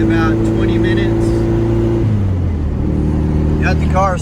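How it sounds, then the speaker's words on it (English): A freshly rebuilt VW 1800 engine pulls a car under load during break-in, a steady low engine drone that shifts down in pitch partway through as it changes gear, while someone talks over it. "Got the car started up and then didn't let it idle, just went ahead and got it under a load pretty quickly"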